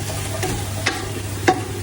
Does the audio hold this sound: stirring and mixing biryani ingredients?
yes